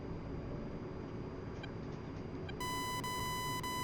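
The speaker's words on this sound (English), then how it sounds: "The beeping you're hearing is the RWR." Steady electronic radar warning receiver tone in an A-10C cockpit in the DCS flight simulator, starting partway through as a loud sustained beep over a low engine rumble, with brief faint chirps before it.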